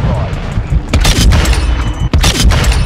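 Desert Eagle pistol shots in Modern Warfare 2, a couple of heavy booming reports with rumbling tails, loud and close amid game sounds and a talking voice.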